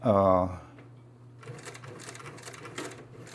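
A cylinder arm sewing machine runs with its motor set to 200, a rapid rattling whir under a person's speech, following a brief tonal sound at the start.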